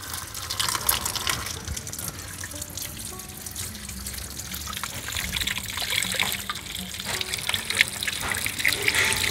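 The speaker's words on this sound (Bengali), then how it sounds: "আমি প্রথমে আমগুলোকে জল দিয়ে ভালোভাবে ধুয়ে নেব।" Raw mangoes are washed under a running tap, with water splashing and trickling continuously into a sink, close and fairly loud throughout.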